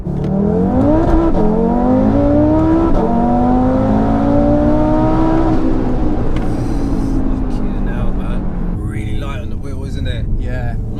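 A 740bhp Audi RS3 accelerates hard, its engine note climbing loudly through quick gear changes from inside the cabin, then easing into a steady high drone as a voice talks over it.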